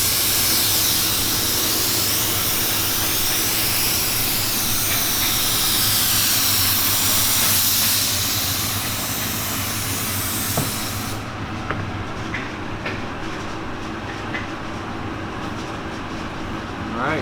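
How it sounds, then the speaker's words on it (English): A spray gun hisses continuously as activator is sprayed onto floating hydro dip film for a candy yellow carbon fiber finish, loud and steady, then dropping to a softer hiss with faint clicks and rustling. "and then we're gonna get started on spraying."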